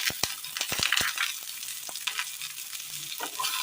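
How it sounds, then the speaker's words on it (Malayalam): Chopped shallots and bird's eye chilies sizzle in a little hot oil in a pan, with a crackling hiss and sharp ticks and scrapes as they are stirred, close and fairly quiet with no voices. "ഇതിലേക്ക് ഒരല്പം ചെറിയുള്ളി അരിഞ്ഞത്, കാന്താരി മുളക്"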